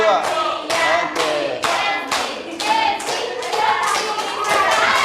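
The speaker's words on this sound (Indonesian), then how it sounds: "Wah, kasih tepuk tangan buat teman-teman" Classroom children applaud their classmates, a dense burst of many small hands clapping in uneven waves, loud and close, with faint children's voices mixed in.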